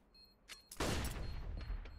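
Bomb explosion in Counter-Strike on the Nuke map, a sudden loud blast after a second of quiet, followed by a sustained rumbling roar that slowly fades.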